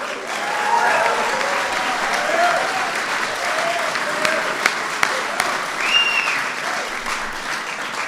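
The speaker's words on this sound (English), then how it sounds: "Give him a big round of applause." Applause at a St. Patrick's Day gathering at the White House for Taoiseach Enda Kenny: a large indoor crowd clapping steadily and loudly for several seconds, with scattered cheers.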